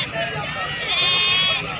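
Goats bleating close by at a busy livestock market, a continuous loud wavering cry filling the short moment amid crowd babble.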